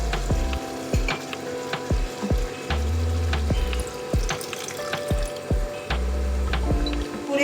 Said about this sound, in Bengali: তখন এর মধ্যে অ্যাড করে দেবো একটুখানি গরম জল।